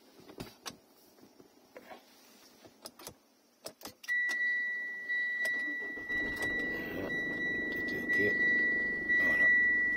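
A Mitsubishi Outlander with a new hands-free key gives lock and unlock clicks, then the engine cranks and starts, settling into a steady idle with a faint whine, close by.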